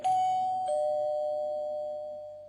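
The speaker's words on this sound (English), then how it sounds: "He went to Al's apartment and rang the doorbell." A doorbell at an apartment door gives a clear two-tone ding-dong. The second chime overlaps the first and rings out with a long, slowly fading tail, with no other sound.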